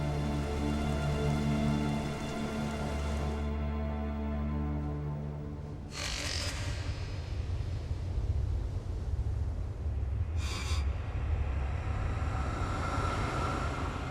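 A brief rain shower falls steadily in the open, a dense wash of patter that keeps up throughout, with a couple of short brighter splashes or gusts standing out near the middle and again a few seconds later.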